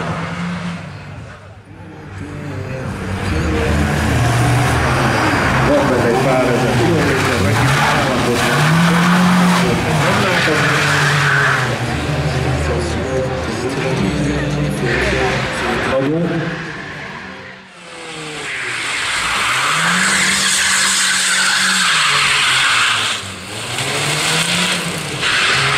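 A SEAT Inka races through a slalom course, engine revving hard and tires squealing through repeated skids, loud and close, with a voice talking over parts of it.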